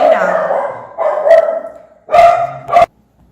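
A dog barks several times in short bursts close by, with a voice talking just before the barks.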